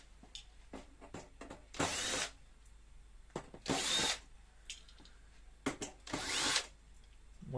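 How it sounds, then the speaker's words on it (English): Power drill backing out the rear screws of a Bauknecht CTAR 7642 IN cooktop, several short whirring bursts, three of them louder and longer, separated by small clicks and handling noises at close range. "Now we're going to remove the back screws."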